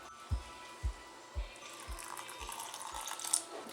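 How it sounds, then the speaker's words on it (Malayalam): Water poured into a grinder jar holding soaked rice and coconut for vattayappam batter: a few soft, evenly spaced thumps, then a faint, quiet trickle of pouring water. "ഇതുപോലെ നെകക്കെ വെള്ളം വേണം ഒഴിക്കാനായിട്ട്"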